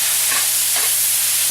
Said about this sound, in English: just stir your meat around